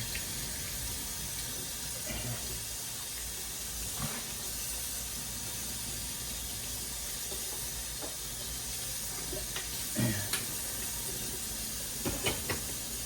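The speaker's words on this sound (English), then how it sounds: "Let me scrub it down, get rid of all the egg" Running tap water pours steadily into a kitchen sink while egg is scrubbed off cooking utensils, a constant hiss with occasional soft knocks and clinks of utensils against the basin.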